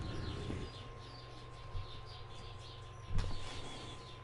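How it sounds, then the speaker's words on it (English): Wild birds outdoors chirp in quick, faint tweets throughout, with a couple of soft thumps over a low steady hum. "They're not pet birds. They're just birds."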